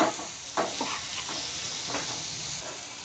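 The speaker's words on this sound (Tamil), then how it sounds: "நல்லா வதக்குங்க தக்காளியை" Tomatoes sauté in a hot pan for sundakkai kootu, a continuous sizzle with a few scraping stirs of the spoon near the start, close and steady.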